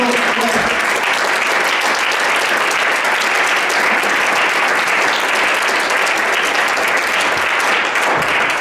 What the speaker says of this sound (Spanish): Por favor, el aplauso.